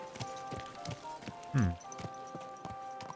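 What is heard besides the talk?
horse hooves clip-clopping in video game Kingdom Come: Deliverance II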